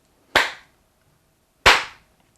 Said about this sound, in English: You clap again and it turns on.